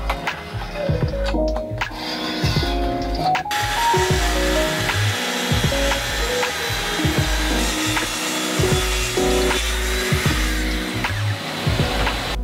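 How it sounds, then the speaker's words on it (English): A power tool sands and cuts a glued-up wood panel to size in a workshop, with bursts of whirring that rise and fall in short passes, some sharp cutting moments, and no talking. "So I have to sand it a bit to get it smooth, and then I can cut it to size."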